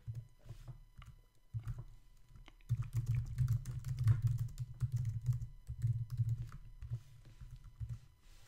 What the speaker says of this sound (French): je vais écrire un paragraphe